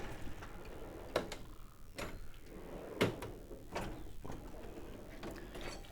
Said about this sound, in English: let's quickly go through just opening all the drawers so you can see